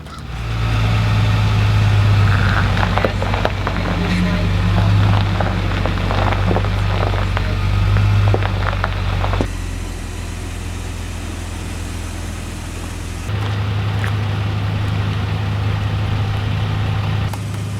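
A vehicle engine starts and runs at a steady idle on an expedition in Gaspésie, with a hose cut open by friction at the pump; the low drone holds throughout, its tone shifting around the middle and again near the end.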